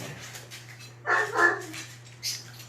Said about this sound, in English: Dog mania tonight.